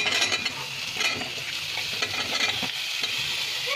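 Vegetables with salt and chili powder fry and get stirred in a pan, a steady close sizzle with scraping stir strokes throughout, no talking.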